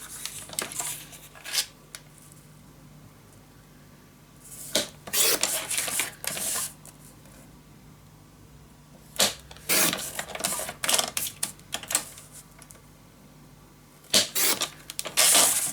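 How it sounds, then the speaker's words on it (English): A piece of paper being cut for a scrapbook album, with bursts of crisp snipping and rustling separated by quiet pauses. "Let me first cut this piece"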